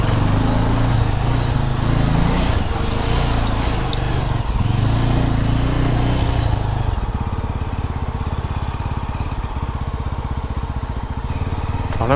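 A motor vehicle, likely a motorcycle or small car, idles and drives in close on a road in Munnar, its steady low engine rumble running loud throughout with a rougher, pulsing drone in the later half.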